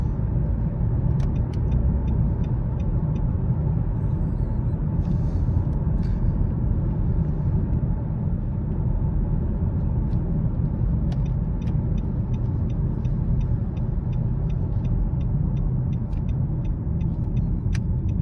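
Hankook Ventus Prime 4 tyres roll over a patched, bumpy road, a steady low rumble of road noise heard from inside the car, with repeated light clicks and thuds from the bumps.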